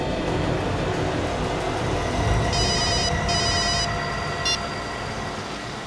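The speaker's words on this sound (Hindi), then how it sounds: "अपने मोबाइल से उसे फोन लगाओ" A mobile phone rings on an outgoing call, giving short bursts of electronic ringback tone in two close pulses and then a brief third, heard steadily over a low rumbling background with no voices.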